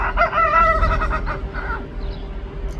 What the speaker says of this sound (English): they actually are starting to do their little rooster crow